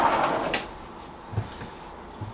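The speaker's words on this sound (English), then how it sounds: "I'm just going to open the second sliding door" A sliding door at an outdoor filming studio being opened, giving a short scraping rumble followed by a couple of softer thuds and rattles as it moves along its track, fairly close, with no talk.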